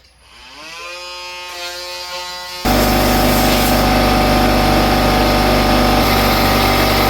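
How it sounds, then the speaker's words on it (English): An electric sander works an epoxy fireplace mantle, its motor spinning up with a rising whine and then settling into a loud, steady, continuous grinding buzz close by. "Notice I picked my sander up before I turned it off."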